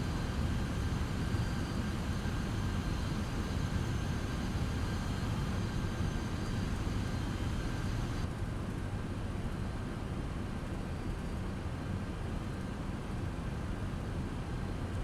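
An MD-11 airliner landing in Microsoft Flight Simulator 2024, a steady, dense engine and airflow roar that stays even and loud throughout with no talk.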